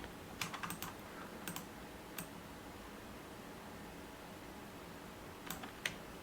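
Quiet typing on a computer keyboard while doing Figma mobile app design, with short bursts of a few soft clicking keystrokes separated by pauses, close and faint against low room hiss.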